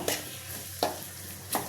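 Spices being sautéed in a pan while cooking chickpeas with potatoes, heard as a steady background sizzle with three distinct scraping strokes of a spoon spaced evenly across the moment, fairly close, with no talking.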